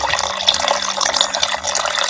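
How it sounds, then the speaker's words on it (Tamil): Water pours steadily from a vessel onto ingredients to soak them for a Chettinad village sweet, a close, continuous splashing trickle with no voices. "எல்லாம் ஊறுறதுக்கு ஒரு முக்கால் தரத்துக்கு தண்ணி ஊற்றிக்கிறான்"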